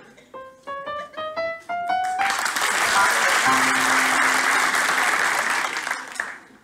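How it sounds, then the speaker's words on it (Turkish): Audience bursts into sustained, dense applause after a short run of rising musical tones, the clapping loud and continuous for several seconds before tapering off. "Ha, sizi mi alkışladılar?"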